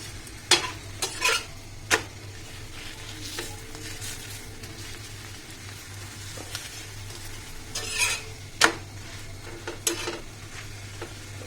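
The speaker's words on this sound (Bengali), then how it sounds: "আমি চেপে চেপে ভেজে নিচ্ছি" Lachha paratha fries in a pan with a continuous sizzle as it is pressed down repeatedly, the spatula scraping and tapping against the pan in occasional sharp knocks.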